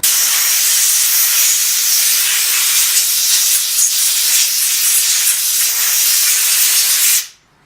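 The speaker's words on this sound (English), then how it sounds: "A lot of times this will blow off with the compressed air as well." Compressed air from a blow nozzle blasts grime off a dirty home chainsaw, a loud, steady, close hiss that runs unbroken for about seven seconds before cutting off abruptly.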